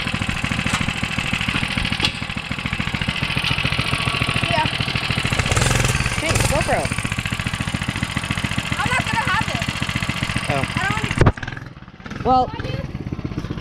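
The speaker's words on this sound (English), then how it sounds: "so that's the trail bike." A trail bike motorcycle engine runs with a steady close putter and some revving, someone talking over it, before the engine sound drops away near the end.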